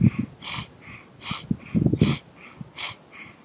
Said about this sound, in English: So we'll just do 9 bellows breaths,